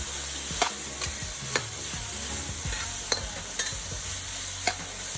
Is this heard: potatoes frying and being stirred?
yes